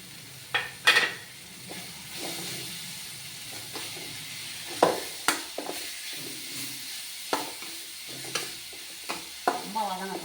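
Grated carrot and curry leaves sauté in a hot pan, a soft continuous sizzle broken by repeated sharp scrapes and clinks of a spoon stirring against the metal.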